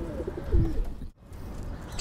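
Ferozpuri pigeons give a short, low cooing call close by, followed by a brief pause and faint background rustle.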